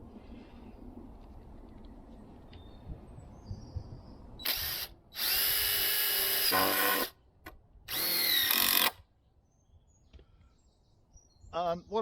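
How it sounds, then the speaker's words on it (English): A power drill drives screws into the wooden leg of a saw horse: two loud, close whirring bursts of a couple of seconds each, with quiet handling noise before and a short whine at the end. "And what I'll do now is put a 2nd screw in here, a couple of screws in the middle leg"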